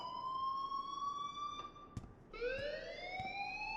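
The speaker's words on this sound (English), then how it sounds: "please turn off that alarm since that's your job." An electronic alarm in Life is Strange rings out in shrill, wailing tones that sweep upward, restarting partway through with a few sharp clicks in between, fairly loud with no voices.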